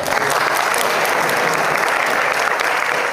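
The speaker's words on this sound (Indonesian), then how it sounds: "Tepuk tangan buat Rehan." Sustained applause for a schoolboy named Rehan, a dense steady clapping from a crowd that carries at even loudness for the whole stretch.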